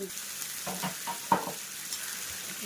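Large pieces of broiler chicken frying in a pan while being stirred, a low steady sizzle with a few soft scrapes and one sharper clink, close by and with no talking.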